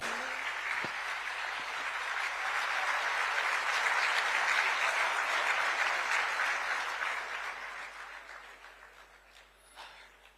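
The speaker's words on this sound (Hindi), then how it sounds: "तालियों की गड़गड़ाहट होनी चाहिए बुलाने के लिए" An audience at a Pune political event applauds, a loud sustained wash of clapping that swells, holds for several seconds and then fades away.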